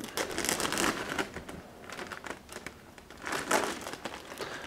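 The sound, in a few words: cutting open a crinkly package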